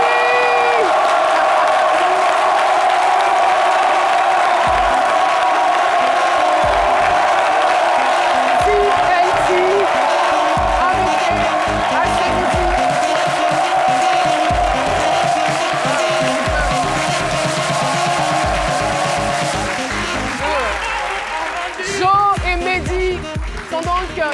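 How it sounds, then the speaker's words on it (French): A television studio audience cheers, whoops and applauds steadily for the group TNT, a dense continuous roar of crowd noise that stays loud throughout and thins slightly near the end. "Je demande donc un déluge d'applaudissements pour le groupe TNT"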